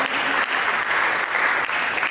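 A church congregation applauds for God during an Indonesian sermon, a dense, continuous roar of many hands clapping at once, steady and loud throughout the brief stretch.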